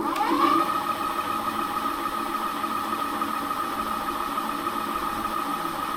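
Puckipuppy Corgi 2.0 Hot Wheels step-through ebike hub motor spun at full throttle, a steady close whine with a sharp spin-up in the first half second, then holding one constant pitch alone for six seconds.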